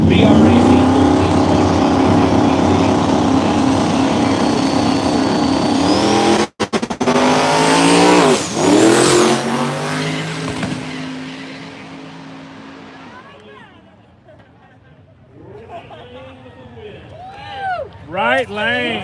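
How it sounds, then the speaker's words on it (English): A 1989 Mustang GT with a Coyote engine roars loudly at a no-prep True Street drag race, its engine climbing and shifting before the sound fades into crowd noise. An announcer talks over the race. "It's an 89 Mustang GT with a Coyote engine"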